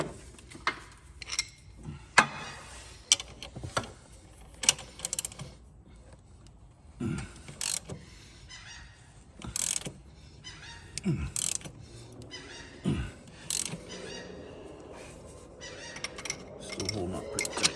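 Puller tool slowly drawing the harmonic balancer off a 2002 Trailblazer, with scattered metallic creaks, clicks and squeaks at irregular intervals, fairly close, with no voices.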